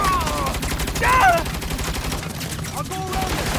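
Rapid gunfire from a turret in the video game Saints Row, with continuous bursts of shots under a loud dense mix of game effects and music throughout.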